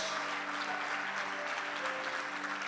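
A church congregation applauds in a steady, dense wash of clapping, with a faint sustained musical tone underneath.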